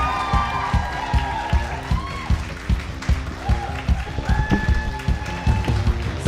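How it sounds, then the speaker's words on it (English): Audience applause and cheering at a live stand-up comedy night in Walthamstow, a sustained crowd clatter with music beats running underneath and a voice calling out over it. "please keep the applause going"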